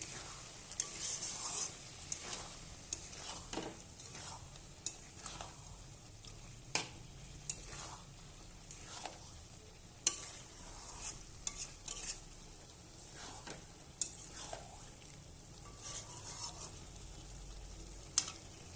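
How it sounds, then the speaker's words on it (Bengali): A pan of spice paste frying after a splash of warm water is added, giving a soft continuous sizzle. Irregular scraping stir strokes and light clinks sit over it, fairly quiet and close. "এখানে একটু আমি হালকা গরম জল দিয়ে দেবো, মশলাটা লেগে না যায়।"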